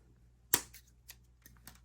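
Scissors snip off the tail of a plastic zip tie on a bandana porch decoration: one sharp close click followed by a few faint small ticks and handling sounds in a quiet room.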